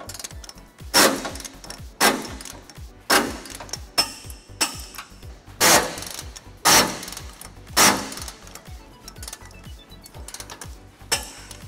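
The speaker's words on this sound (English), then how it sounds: "We're going to be using a 19 millimeter socket to tighten all those down." A ratchet fitted with a 19 mm socket tightens trailer hitch bolts on a 2010 Ford Ranger, giving a series of sharp, evenly spaced clicking strokes with rapid ticking between them, close and fairly loud.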